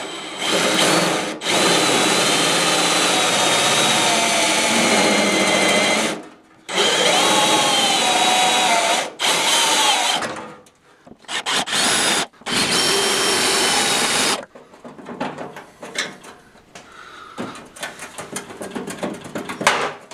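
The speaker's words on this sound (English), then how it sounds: "The pilot hole drilled." A power drill drilling a pilot hole whines loudly in long sustained bursts with brief pauses, then tapers into scattered, quieter clicks and knocks.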